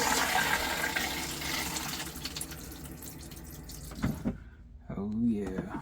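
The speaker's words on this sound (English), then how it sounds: "So let's put some water in the bowl, shall we?" Water rushes into a truck camper toilet bowl with a loud, hissing fill that fades, then cuts off, followed by trickles and a voice.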